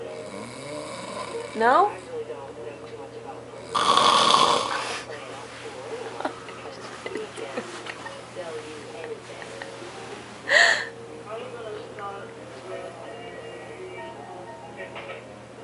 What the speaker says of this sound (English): You gonna keep snoring away all night?